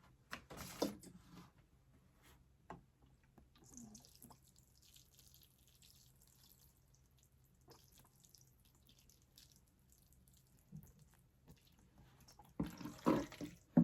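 Water is poured to moisten potting soil in a small indoor seed-planting container, heard as brief, soft splashy pours near the start and again at the end with near silence between.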